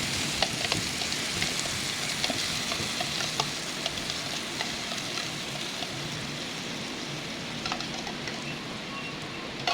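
Chicken biryani ingredients sauté in a pan with a soft, continuous sizzle and frying crackle. Light scattered stirring clicks sit over the sizzle, which stays fairly quiet and steady, with no voices.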